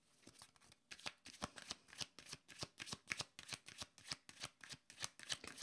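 A deck of cards is shuffled up close for a card reading. Crisp, rapid riffles and flicks come in a quick, uneven rhythm that runs the whole time, with no voice.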